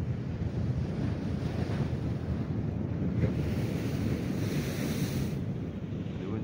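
Sea waves crashing and churning on the shore north of Agadir, a steady loud roar of surf with gusting wind buffeting the microphone throughout.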